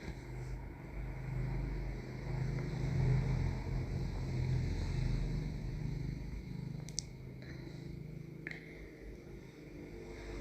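Home sewing machine stitching along the edge of a woolen nighty, a steady low mechanical whirring and rumble running through most of the stretch, fairly quiet, with a few faint clicks near the end.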